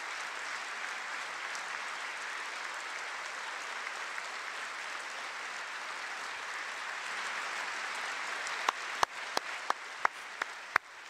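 A large crowd applauds continuously in the chamber during the 2018 State of the Union address, a steady, even wash of clapping with a few sharp, close individual claps near the end.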